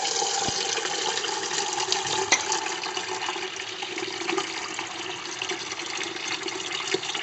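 Cold water gushes steadily from a kitchen tap into a pot holding a boiled farm fresh egg, a continuous close splashing rush with a few small knocks and no voices.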